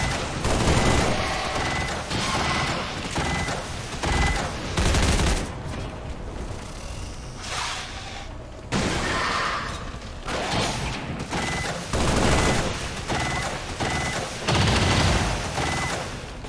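Dense gunfire from a turn-based squad battle in XCOM 2, with loud repeated bursts and shots stacking into heavy volleys across the whole stretch, along with a few thuds and mechanical clatter.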